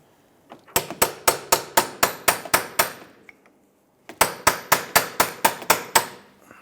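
Hammer strikes on a rusted tie rod adjusting sleeve at the pitman arm of a 1999–2004 Jeep Grand Cherokee, two bursts of about eight to nine sharp, evenly spaced metallic blows separated by a short pause, loud and close.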